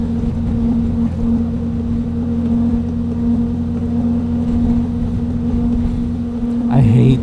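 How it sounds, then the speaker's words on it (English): Wind on a motorcycle ride along Rockaway Beach, roaring steadily against the microphone beneath a droning engine hum, loud and continuous throughout. "it's a little windy"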